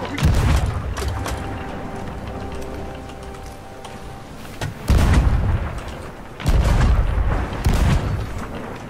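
Heavy booming ship cannon blasts in bursts in a video game, one around the middle and a longer volley near the end, over a rumbling game-like background with faint voices.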